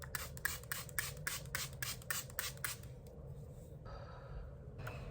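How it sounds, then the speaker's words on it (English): Black Radiance matte setting spray is pumped in a quick run of about eight short, crisp hisses, then stops, leaving faint quiet handling sounds. "I go on my setting spray"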